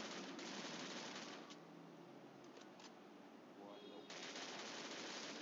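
Sustained automatic gunfire in the mobile shooter Garena Free Fire, a continuous bright rattle of shots that pauses briefly, then bursts back in at full strength, steady and fairly loud throughout.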